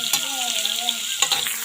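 Chopped onions crackle and sizzle in hot oil for a pasta tadka, a close, continuous frying hiss with sharp pops and a stirring scrape.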